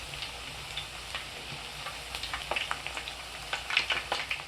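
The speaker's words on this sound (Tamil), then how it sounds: "நம்மளுக்கு இந்த சலசலப்புலாம் அடங்கினாவே வெந்துச்சுன்னு அர்த்தம்" Thattai, a crisp traditional Diwali snack, frying in hot oil with a close, lively sizzle full of quick crackles and pops that grow busier toward the end.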